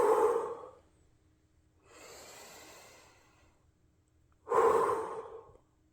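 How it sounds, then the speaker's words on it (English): Three deep, slow breaths from a person close by, each a broad airy rush, with the middle one softer and more drawn out than the loud first and last, and quiet pauses between them. "Let me take a couple deep breaths."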